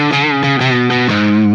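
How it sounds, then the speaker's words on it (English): Electric guitar run through a pedal used as a clean boost with the distortion turned fully off, a few strummed chords ringing loud and bright, each change clearly separated, with no voice over them. "Turn the pedal on, but with the distortion fully off, with the volume up a little bit, then we get a clean boost."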